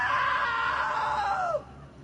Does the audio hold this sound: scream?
yes